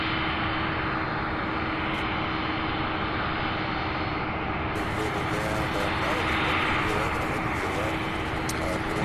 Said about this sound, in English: we'll have 2 departures, a 75 and an MD-11 to start the afternoon departure rush